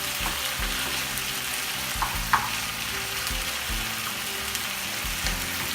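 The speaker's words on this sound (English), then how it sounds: "The pan is starting to sizzle" Oil sizzles and crackles steadily in a pan close by, a constant hissing fry with faint occasional clinks, no talking.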